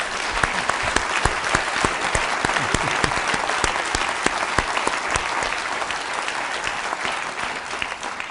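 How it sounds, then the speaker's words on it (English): A conference audience at a session on neglected tropical diseases gives a sustained round of applause, many hands clapping steadily with sharp individual claps popping out of the dense wash. "please a big round of applause and a wave to everyone who's watching us online"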